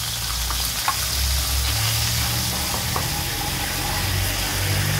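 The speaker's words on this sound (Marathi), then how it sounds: "फोडणी तडतडली आहे." Spice tempering crackles and sizzles in hot oil for a Maharashtrian sasav: steady close frying hiss with scattered small pops, alone without talk.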